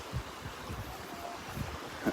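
Breezy wind on a morning beach walk near the pass at Delnor-Wiggins, a continuous rumbling buffet against the microphone with soft gusty pulses and possible surf underneath, and no talking.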